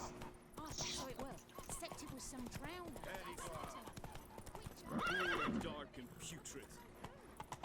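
Roach, the horse from The Witcher 3, clip-clops along at a steady trot and lets out a loud whinny partway through, while someone talks over the game sounds.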